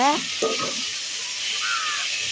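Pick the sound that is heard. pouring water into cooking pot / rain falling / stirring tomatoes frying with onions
stirring tomatoes frying with onions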